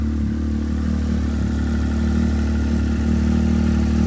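A Can-Am X3 side-by-side sits at a steady idle. The engine gives a continuous, even mid-range drone with a low rumble and does not rev.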